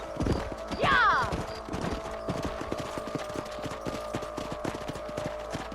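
Horse hooves clatter in a quick, steady rhythm in the Red Dead Redemption video game, with a brief horse whinny early on and game voices and ambience layered over the galloping.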